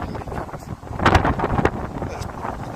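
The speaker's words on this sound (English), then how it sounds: "It's very windy suddenly, isn't it?" Strong gusts buffet the microphone outdoors, a broad rumbling roar swelling loudest midway, with voices talking underneath.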